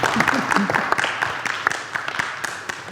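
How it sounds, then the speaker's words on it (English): An audience at a Unity church Sunday celebration applauds a speaker, with scattered claps rising over a voice talking at the same time. "Let's give her a round of applause"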